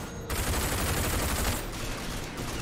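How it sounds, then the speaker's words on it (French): Submachine gun fire in the shooter RAGE, a dense, loud continuous rattle of rapid shots that blur together over a couple of seconds, with no talk. "cette mitraillette elle a beaucoup de dispersion"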